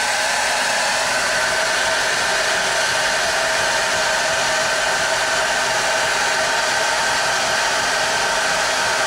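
A hair dryer blows hot air at close range into the center of a freshly trimmed clay pottery bowl, a loud, constant whooshing roar that holds steady throughout.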